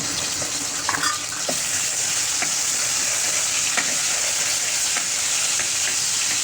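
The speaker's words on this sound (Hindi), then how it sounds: "ऑयल में से 2 चम्मच ऑयल हमने डाल लिया अब कढ़ाई में और हम इसमें 1 छोटी चमची लहसुन अदरक पिसा हुआ डाल देंगे।" Ground garlic and ginger frying in a couple of spoons of hot oil in a wok (kadhai) for chicken manchurian gravy, a steady loud sizzle with occasional stirring scrapes and no talking.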